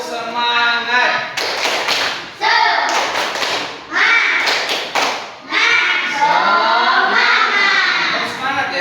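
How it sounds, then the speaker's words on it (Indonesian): A school class in Indonesia claps the rhythmic 'tepuk semangat' spirit clap, sharp patterned clap bursts in quick groups set between children's chanted voices and a teacher speaking. "Coba tepuk semangat dulu tuh"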